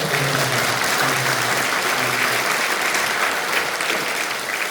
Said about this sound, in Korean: 우리 격려하며 박수 한번 해주시죠